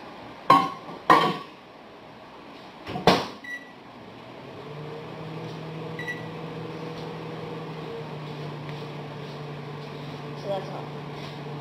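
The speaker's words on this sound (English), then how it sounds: "you want to put it in the microwave for a minute and burn it" A household microwave oven hums steadily at low volume after a few sharp clunks and taps from handling the door and dishes.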